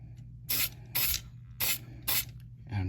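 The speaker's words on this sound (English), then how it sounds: "I have this old can of metal cast red hanging around, and I'm going to see if it still sprays." An old can of red metal cast spray paint fires four short, loud hissing bursts in a fairly even rhythm, each under a second, with quiet gaps between them.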